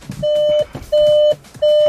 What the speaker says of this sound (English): Just in case you're wondering what the fucking beeping is